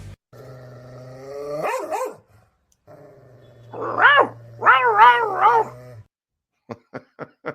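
A dog barks and yelps in a few drawn-out, tonal bursts, followed by a quick run of three or four short sharp barks, close up.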